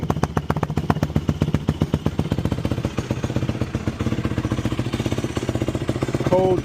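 A Yamaha YFZ450 ATV engine idles roughly on a cold start with the choke open, a loud, fast, steady thumping pulse close by that clatters unevenly and surges near the end.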